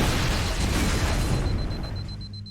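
A plasma grenade detonates in Halo CE Anniversary, a broad, rumbling burst that fills the space and then slowly fades, with no talking over it.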